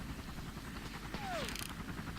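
A helicopter arrives in the video game Far Cry, a steady rotor drone under game noise, with a falling whine and a brief burst of rattling in the middle.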